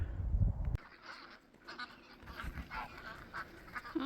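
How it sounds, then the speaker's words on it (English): Geese honking outdoors on a cold, snowy day near a barn build, several calls over a few seconds, moderately close with wind and rustling behind them. "it's finally a nice enough day that the waterfowl are out and about and exploring"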